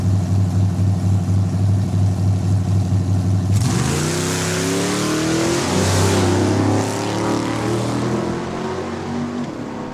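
Drag racing cars idle with a steady low engine drone, then launch hard into a loud, rising roar down a quarter-mile strip at Saskatchewan International Raceway, engines sweeping up through gears and fading slightly toward the end.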